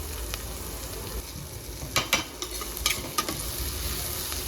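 Onion and tomato sautéing with rock salt in a pan for veg kurma, a steady low sizzle with a few sharp spatula scrapes clustered near the middle, close up, no talk.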